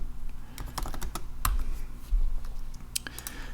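Keys click on a computer keyboard in quick, irregular bursts of typing, close and fairly quiet, with no talking.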